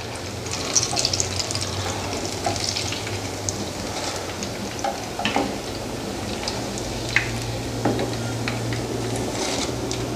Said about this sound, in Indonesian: Ini kita tiriskan, kita goreng,